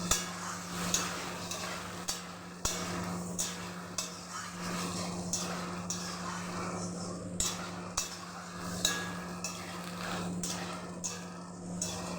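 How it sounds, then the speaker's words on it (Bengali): Boiled chickpeas and potato stirred into fried spices in a pan, with a steady, regular clink and scrape of the spoon against metal over a constant low hum, no talking. "এভাবে 3 থেকে 4 মিনিট মতো এভাবে নাড়াচাড়া করে নিব"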